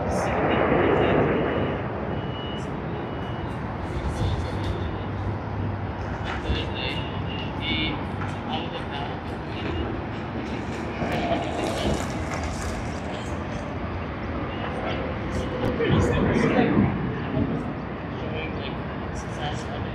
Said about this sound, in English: China Airlines from Taipei on its A350-900